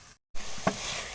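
Capsicum and spices fry in a pan with a steady soft sizzle, cut off by a brief silence, then resuming with a single utensil clink.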